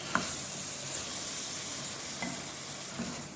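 Long brinjal cooks in tomato masala in a pan, giving a soft continuous sizzle with a few quiet stirring scrapes and taps, faint and close.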